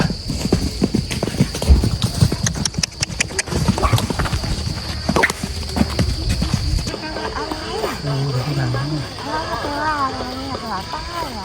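Horses being warmed up at a riding stable in Rayong, Thailand, their hooves clip-clopping in a steady rhythmic trot close by, then fading as a person talks over a constant background hum.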